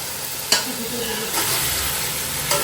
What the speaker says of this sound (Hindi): अच्छी तरह इसको मिक्स करेंगे हम।